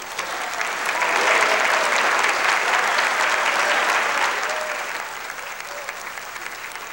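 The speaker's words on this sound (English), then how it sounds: "give a rousing cheer for the Winchester Sports Foundation" An indoor audience at a sports hall of fame ceremony breaks into loud, sustained applause and cheering that swells early, holds steady, then tapers off near the end, with some faint voices underneath.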